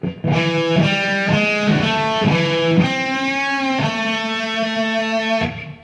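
A distorted electric guitar plays a short riff, notes ringing out with a sustained bend near the end before cutting off.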